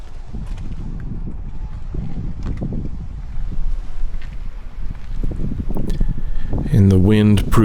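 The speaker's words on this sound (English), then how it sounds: "the wind proved to be just a little too much for my camera" Strong wind batters a camera microphone during a KLR650 motorcycle ride, a loud rumbling buffet that surges and fades throughout, ending with a short burst of louder, distorted noise.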